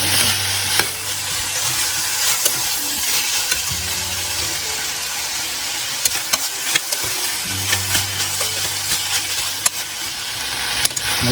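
Mixed vegetables frying in a cooker pot for vegetable biryani, a steady close sizzle broken by repeated clicks and scrapes of a spoon stirring against the metal, no speech.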